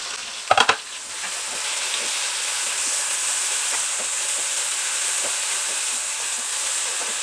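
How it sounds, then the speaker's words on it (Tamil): Onions and slit green chillies sautéing in oil in a pan: a steady, even hissing sizzle, close and constant, with a few sharp clatters near the start and no voices. "வெங்காயம் வதங்கிட்டு இருக்குது"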